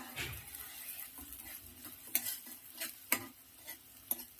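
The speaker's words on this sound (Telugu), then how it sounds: "చూడండి ఆనియన్స్ ఇలా ఇలా వేగాలి" Sliced onions and green chillies frying in hot oil, a soft sizzle with a few sharp spatula clicks and stirring scrapes, close but fairly quiet.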